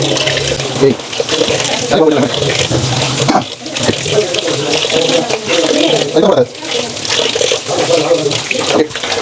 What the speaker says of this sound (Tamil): எல்லா பக்கமும் கழுவி எடுத்தோம்